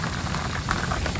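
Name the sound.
heavy rain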